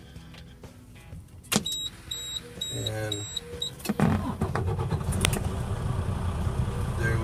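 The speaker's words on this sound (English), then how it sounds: "Now I'm going to start the truck" A diesel truck with a manual clutch is started, with a starter whir, clicks and dash chimes, and then the engine catches and settles into a steady idle close by, with someone speaking briefly.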